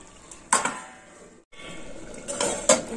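Metal lid clanks down onto a steel pot of simmering vegetables for gime shak chorchori, with two close clattering knocks, a brief pause, then another pair of clinks against the rim.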